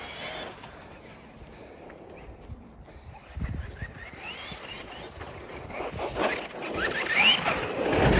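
A Hobao Hyper MT Plus II RC monster truck on a 6S lipo drives at a distance, its motor whining and rising and falling under heavy throttle, mixed with rough wind noise on the microphone.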